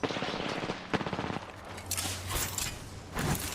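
Rapid automatic gunfire in a first-person shooter video game, bursts of sharp shots in quick succession followed by scattered further shots and explosive bursts, fairly close.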